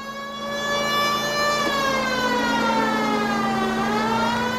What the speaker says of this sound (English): Press L3 to use the siren.